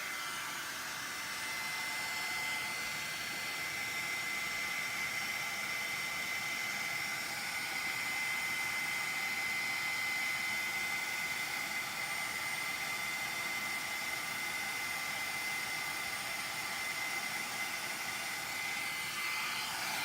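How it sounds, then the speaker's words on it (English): Steady, loud blowing roar of a heat tool drying embossing powder on a craft stamping project, a continuous airy whoosh held unbroken and close throughout. "while I'm drying with my heat tool"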